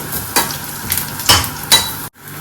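Pepper and fennel seeds frying in a pan for a dried prawn and bottle gourd curry, crisp sizzling with several scraping stir strokes, close and brief, ending in a short cut.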